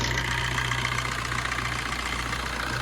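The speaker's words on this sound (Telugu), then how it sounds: "సింగిల్ సెల్ఫ్లో బండి స్టార్ట్ అవుతుంది." A 2016 Maruti Suzuki Ertiga VDI diesel engine idles steadily, a continuous low hum with a faint mechanical clatter, close and even throughout with no voices.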